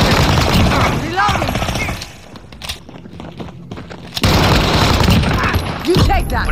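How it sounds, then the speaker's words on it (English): A precision airstrike in a shooter video game, heavy booming blasts and dense gunfire with a loud muffled gap midway, close and harsh, while a voice talks over it. "Precision airstrike."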